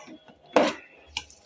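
A spoon stirring tomatoes and crushed tamarind in a cooking pot gives two brief clinks and scrapes against the metal, separated by quiet stretches.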